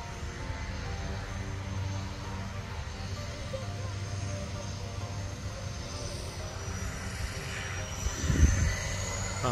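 Aircraft engine drone at an airfield as a plane approaches for takeoff, a steady, moderately loud rumble throughout with people talking over it.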